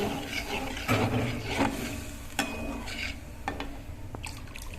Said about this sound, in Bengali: এবার আমরা জল ঢালবো, জল ঢাললাম